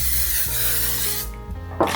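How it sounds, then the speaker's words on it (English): L'Oreal Infallible Setting Spray hisses in continuous mist bursts close to the microphone, with a brief pause and a final short puff. "I use the L'Oreal Infallible Setting Spray, and this will just lock everything in."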